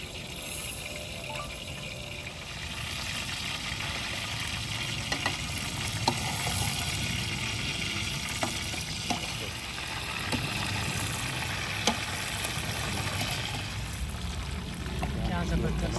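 Peshawari chapli kebabs frying in a tilted kadhai outdoors, a steady hiss and sizzle of hot oil running throughout, with someone talking over the cooking.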